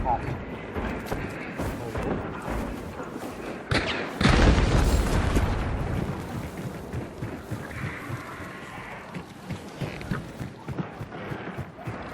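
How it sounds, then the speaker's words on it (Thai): A single deep explosion in the video game Hunt: Showdown booms and rumbles partway through, standing out over ongoing chatter before and after. "ฟังระเบิด"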